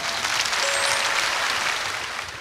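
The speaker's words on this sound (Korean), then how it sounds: "박수 주시기 바랍니다." A TV stage audience applauds a trot performer as she comes out, a steady wash of clapping with no talk over it.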